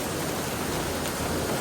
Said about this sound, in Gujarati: વરસાદ ચાલુ.